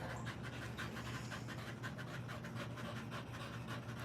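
A dog pants in quick, rhythmic breaths, steady and fairly faint throughout, with no talking.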